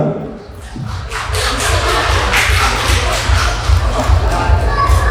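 A festival audience claps and cheers amid crowd bustle, with a low thumping beat running underneath.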